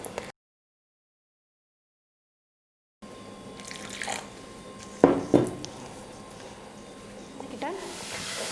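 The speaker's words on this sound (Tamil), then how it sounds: "இப்போ கொஞ்சம் கொஞ்சமாக தண்ணி சேர்த்து மாவு பிசைஞ்சிக்கிறேன்." Water is added bit by bit to flour and kneaded by hand into dough for homemade cashew biscuits, giving a brief wet splash and squelch midway over faint kitchen hiss after a silent stretch.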